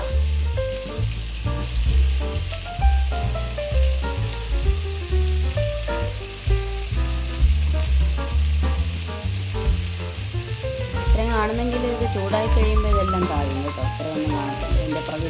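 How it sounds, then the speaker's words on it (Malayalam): Drumstick leaves sizzle and crackle in hot coconut oil in a pan, a steady frying hiss running throughout beneath louder background music. "വെളിച്ചെണ്ണ ഒഴിച്ചു ഇനി ഇല ഇടാം മുരിങ്ങയില"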